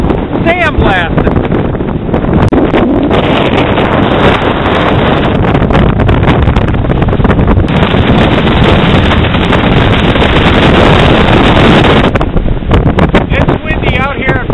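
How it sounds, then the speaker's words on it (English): Strong wind on Desoto Beach buffets the microphone in a loud, continuous roar for the whole stretch, with brief voice sounds near the start and end. "It's windy out here at Desoto Beach."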